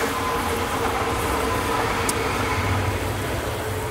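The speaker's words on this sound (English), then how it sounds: "Here comes another one. Here comes another train." A train passing close by outdoors, a steady loud roar of rumbling and rattling that holds throughout, with a faint higher tone running beneath it and no talking.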